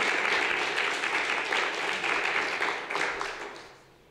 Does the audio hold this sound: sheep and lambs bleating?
no